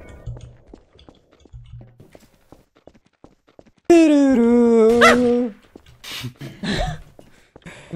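A puppy in Garry's Mod gives one loud, drawn-out whimpering whine lasting over a second, followed by shorter yelps. Faint voices and scattered clicks sound around it.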